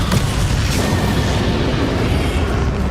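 Confringo fire spell blast from the Hogwarts Legacy video game: a dense, sustained booming explosion with heavy low rumble filling the full three seconds at steady, loud level.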